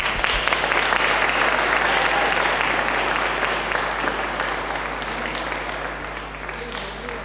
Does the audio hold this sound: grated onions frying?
no